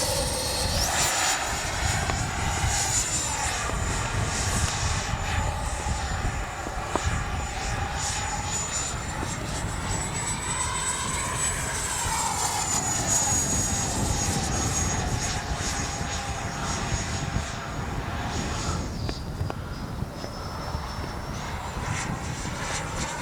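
A Freewing 90mm F-22 RC jet flying in windy conditions, its electric ducted fan whining steadily and loudly, the pitch rising and falling as it passes, with wind buffeting the microphone throughout.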